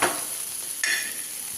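Quail egg roast being stirred in a pan, a steady soft sizzle with a scrape near the start and another stir about halfway, no voices.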